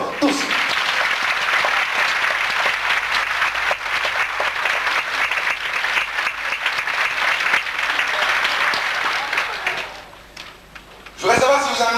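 An audience applauds performers on stage at a show, with dense, loud, sustained clapping and crowd noise that fades out near the end before a voice comes in.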